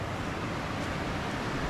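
Water pours at the Poço Fundo waterfall on Ilhabela, making a dense, constant rushing roar with no breaks that stays loud and close for the whole stretch.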